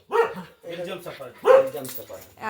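A dog gives a few short, sharp barks at close range, spaced apart, with people talking nearby.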